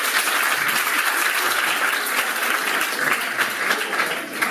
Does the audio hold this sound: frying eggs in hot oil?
no